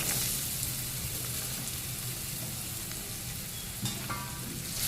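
Potatoes frying in oil for a pulao, a continuous close sizzle with a soft spitting crackle and a brief clatter near the end, no talk.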